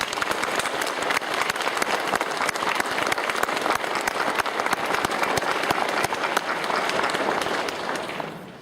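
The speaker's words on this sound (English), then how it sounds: "Please join me in a round of applause for the Navy Band." A graduation ceremony crowd at Navy Officer Candidate School applauds the Navy Band: loud, dense, continuous clapping from many people that holds steady for about eight seconds before easing off at the end.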